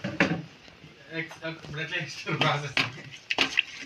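Homemade masala being stirred in a pan, with a few light spoon-on-metal clinks and scrapes coming and going under a person's steady talking.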